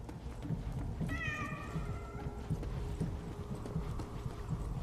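A cat meows in the video game 11-11 Memories Retold, one drawn-out, falling call over a steady bed of hoofbeats, horse movement and rumbling ambience.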